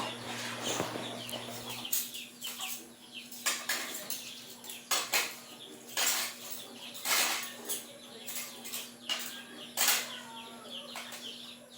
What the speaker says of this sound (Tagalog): kaagad kong hinuhugasan yung aking mga pinagamitan para maganda tingnan ba